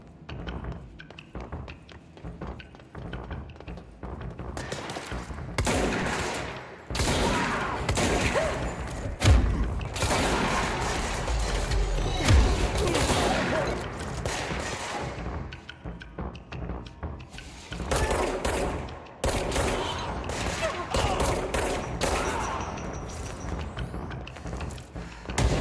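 Enemy gunfire in the action game Control comes as repeated bursts of shots and heavy thuds, rolling on and off through a long stretch of combat at a moderate, somewhat distant level.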